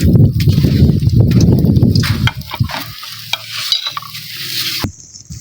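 Food frying in a pan, stirred as it sizzles, with dense crackling close by that eases off midway into quieter scraping and hiss.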